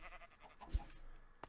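A sheep on a sheep farm in the video game Minecraft gives a short, faint bleat in the middle of a quiet moment, with a brief soft click near the end.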